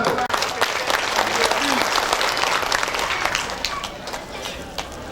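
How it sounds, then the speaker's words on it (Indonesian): Audience applause at an Indonesian political event backing a regent candidate, a dense sustained wash of clapping that stays loud and steady for several seconds, then eases off slightly toward the end. "Tepuk tangan dulu."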